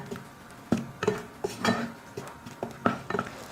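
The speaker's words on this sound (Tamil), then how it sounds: "வெல்லத்தோடு சேர்த்து வாழைப்பழத்தை வந்து நல்லா கலந்து விட்டுக்கோங்க" A metal spoon stirs banana cooked with jaggery in a pan over medium flame, giving a dozen or so irregular clinks and scrapes against the pan, close and fairly loud, with no talking.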